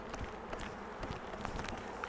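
Honey bees in an opened hive, crowding over the frames, fill the air with a dense, steady buzzing drone that stays close and even throughout.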